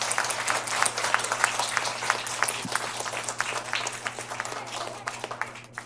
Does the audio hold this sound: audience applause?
yes